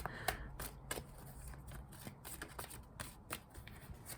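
Tarot cards being shuffled and laid out by hand, a quiet, close series of crisp riffles and soft slaps, with no talk.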